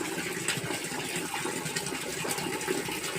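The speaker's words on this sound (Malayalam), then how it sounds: "ഇത് നല്ല പ്രഷറിലാണ് വരുന്ന വെള്ളം" A SUNSUN JQP-3000 submersible aquarium power head pump pushes water out at pressure, making a continuous close rushing gush with no pauses.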